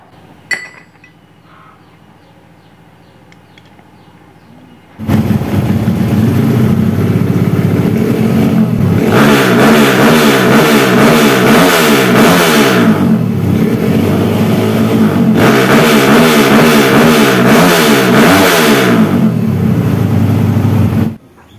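Kawasaki KLX with a bored-up engine and PWK 34 carburetor revving loudly and close after a quiet idle-like start, the engine rising and falling in repeated throttle blips for over fifteen seconds with no talk.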